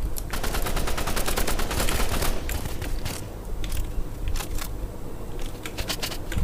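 Rapid bursts of gunfire from the Roblox shooter game Rivals, dense overlapping shots with brief pauses, loud and continuous throughout with no talking.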